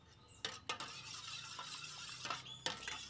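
Eggs are stirred in a bowl for a sweet egg batter flatbread, a soft swishing broken by a few sharp utensil clinks against the bowl, quiet and close, with no voices.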